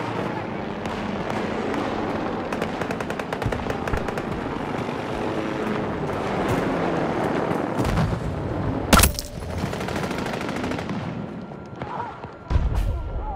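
Gunfire in Battlefield 2042 on the Valparaiso map in hardcore mode, a dense stream of sharp cracks and thumps with a louder blast near the middle, continuous over the game's background rumble.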